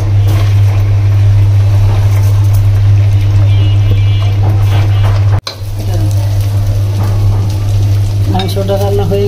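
Soaked polao rice being stirred and toasted in a hot pot with garlic and ginger makes a loud, steady sizzle with scraping, under a strong low hum, briefly cut off and resuming with clanks.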